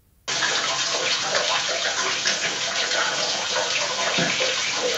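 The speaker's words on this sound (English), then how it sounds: "sounds like somebody's in the bath with the tap running" Tap running into a bath, an AI-generated effect that starts suddenly after a brief silence and continues as a steady, close rush of splashing water.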